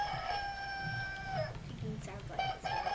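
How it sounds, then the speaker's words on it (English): A toy chicken crows an electronic cock-a-doodle-doo with a long held tonal call, followed by clucking sounds, as people talk over it. "Chicken sounds like this."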